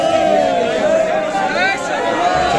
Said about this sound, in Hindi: ब्लॉगरों की भीड़ देख रहे हो आप, बहुत ही भयंकर वाली भीड़